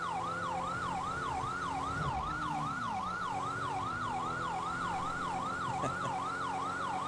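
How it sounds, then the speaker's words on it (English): Police siren combination from the LSPDFR police game, a loud rapid yelp wailing steadily up and down the whole time, with a car engine rumbling underneath. "What do you guys think of the siren combination?"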